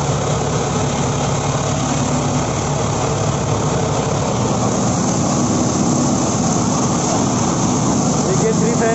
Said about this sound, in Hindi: आज देखिए हमारे पास महिंद्रा 575 है यूवो, ये चल रहा है 3 फैन की मशीन पे।